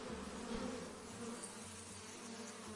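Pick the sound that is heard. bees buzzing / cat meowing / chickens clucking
bees buzzing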